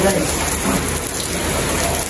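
Steady outdoor rain hisses and patters without pause as people bathe under it, dense and close, with a brief spoken word over the downpour.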